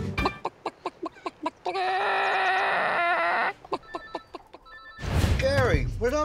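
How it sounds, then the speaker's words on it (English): A Buff Orpington chicken clucks in a quick series of sharp, evenly spaced calls, then a sustained ringing tone cuts in before more clucks and a burst of loud voices. "Now, this is a Buff Orpington chicken."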